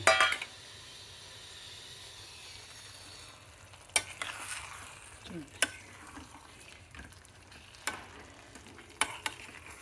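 Paneer tikka masala curry bubbles quietly in a pan, a low soft simmer broken by occasional sharp clinks of a spoon against the pan.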